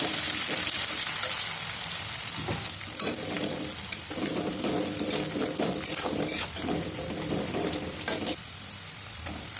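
Chopped onions and whole spices fry in hot oil in a wok, a loud, steady sizzle broken by scraping stirs, with no voices.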